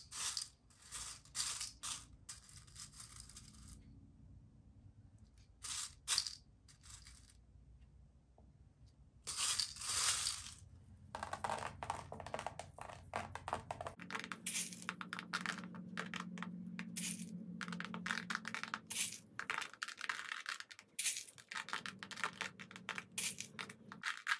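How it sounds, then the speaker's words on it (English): Pieces of gold crushed filler glass from Ashland are handled and sorted, making crisp clinking and scraping bursts separated by brief pauses, close and fairly quiet. "Now I'm going to take my gold crushed filler glass, Ashland brand from Michaels."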